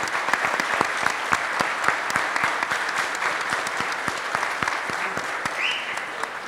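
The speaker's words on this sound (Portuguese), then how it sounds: "A gente pedir uma salva de palmas para todos da Goinfra que fazem esse grupo lá" Steady applause from the audience at a national road-maintenance conference, dense clapping sustained evenly across the whole stretch with no voices over it.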